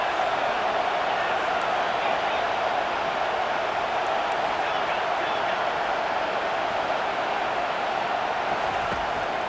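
Stadium crowd in EA Sports College Football 25 roars continuously behind the defense on a big third down, a dense, unbroken wall of cheering noise that holds steady at high volume throughout.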